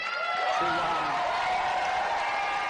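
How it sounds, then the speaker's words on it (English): A large crowd roars and cheers at a political gathering, a dense, sustained wash of voices and whoops filling the space with steady loudness throughout. "Oh, listen to that crowd."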